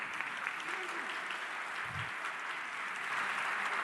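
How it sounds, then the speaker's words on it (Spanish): Steady applause from the audience at a cybersecurity seminar held in a national congress hall, a continuous even patter of many hands, with a brief low murmur partway through. "Un aplauso para Montserrat."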